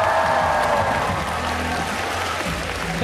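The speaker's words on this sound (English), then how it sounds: "So, please, give her a big cheer." Crowd applause with some cheering at a Yogscast live event, dense and continuous throughout with a steady broad wash of clapping.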